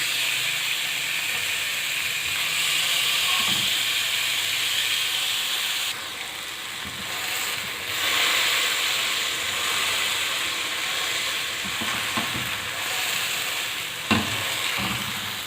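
Chicken tikka pieces fry over a low flame in a pan, giving a steady, close sizzle with faint hiss and a few soft clinks of turning or stirring. No one speaks.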